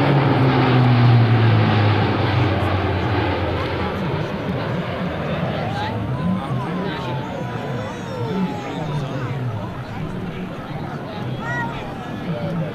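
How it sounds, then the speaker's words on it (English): A C-130J-30 Hercules propeller aircraft at an air national guard open house, banking in a steep 360-degree turn: a loud, steady broadband propeller and engine roar that holds throughout, with crowd murmur underneath. "Listen to the sound of these very scientifically designed propeller blades."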